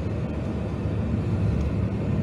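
Firefighting airplanes fly over a wildfire in Rodopi, Greece, making a steady, fairly loud low engine drone that stays even throughout with no talking.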